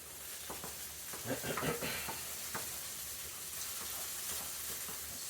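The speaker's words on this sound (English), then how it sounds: "So these onions are sauteing up, getting brown." Onions sauté in a pan over fairly high heat, browning with a steady broadband sizzle, punctuated by a few stirring scrapes and clicks near the start, close and moderately loud with no talking.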